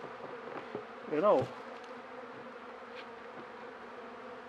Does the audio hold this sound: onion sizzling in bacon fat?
no